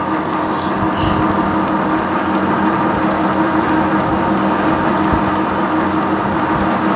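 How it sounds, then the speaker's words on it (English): A lathe runs in reverse during a thread-cutting operation, putting out a loud, continuous mechanical whir and rattle of gears that holds steady throughout, close up and with no speech. "Switch off the machine, again withdraw the tool and reverse the machine."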